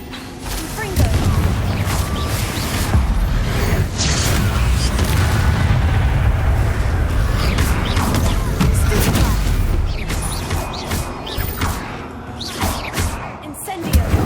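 Confringo blasting-spell explosions in Hogwarts Legacy, a run of heavy booms and crashes rolling one after another with dense low rumble, loud and close, partly under game sounds and some voice.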